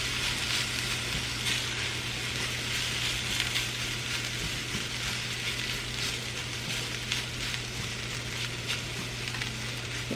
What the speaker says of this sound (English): Just kind of stir it around, brown that flour in there.